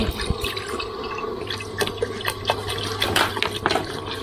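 Nam ngiao broth ladled over khanom jeen rice noodles: close, wet splashing pours and drips in small bursts, continuous for about four seconds with no talk.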